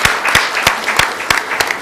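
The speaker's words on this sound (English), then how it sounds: "Let's give a big applause" Audience clapping after a presentation at a social business design lab session, with several loud rhythmic bursts in near-unison, like a small room of people applauding in time, brief and close.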